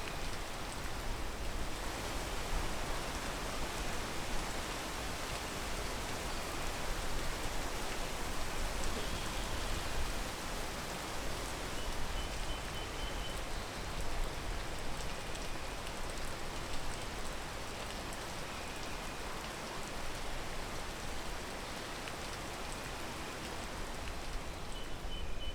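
Steady, even video game rainfall in the game Peak fills the whole stretch, a dense hiss of drops with no voices, constant in level from start to finish.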